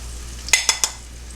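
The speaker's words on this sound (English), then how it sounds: "It should sizzle." Flour-dredged chicken fries in a pan with a steady, close sizzle, broken by three quick metallic clinks of a utensil against the cookware.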